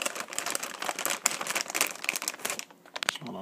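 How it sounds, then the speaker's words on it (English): A refurbished SuperMicro LGA 775 motherboard is unwrapped from its packaging, with busy crinkling and rustling of plastic wrap close to the mic, tapering off near the end. "I'm going to unwrap it and we can take a look at it."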